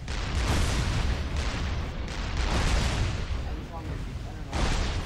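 Tanks fire on enemy units in the strategy game Supreme Commander 2, a dense, continuous rumble of booming cannon shots and blasts that stays loud throughout, with a voice speaking over the battle.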